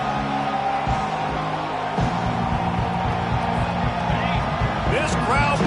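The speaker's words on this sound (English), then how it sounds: "This crowd bringing the energy and noise early." Stadium crowd at a college football game roars in a steady, dense wash of noise, with whoops and cheers rising near the end under a commentator's voice.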